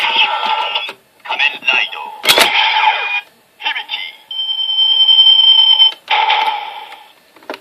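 A Kamen Rider Decade toy transformation belt plays a shortened Hibiki change sound: loud electronic bursts, a sharp chime-like hit, then a sustained synthetic tone before a final burst, all fairly close.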